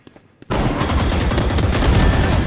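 Sustained automatic fire from a Vandal rifle in Valorant, a dense loud burst that starts abruptly after a brief quiet moment and keeps going without a break.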